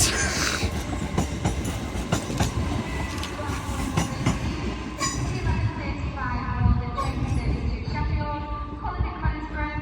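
Hull Trains class 802 unit 802 303 "Land of Green Ginger" pulling out of Doncaster on the East Coast Main Line, a steady loud rumble and rolling wheel noise with rhythmic clicks over the rail joints, sustained throughout.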